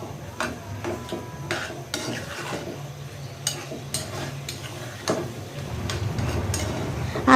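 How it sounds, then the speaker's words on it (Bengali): Potatoes and eggplant stirred with dried fish in a cooking pot, irregular scraping and clinking of a spoon against metal over a soft simmer, with faint background voices. "এখন আমি দিয়ে দিচ্ছি। ভালো করে লাড়াচাড়া দিয়ে নেব।"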